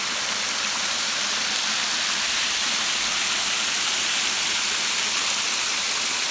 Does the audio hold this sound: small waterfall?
yes